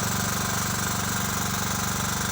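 A tractor engine runs steadily at a kokpari horse game in Urgut, a continuous close mechanical drone with a rhythmic low throb and no break.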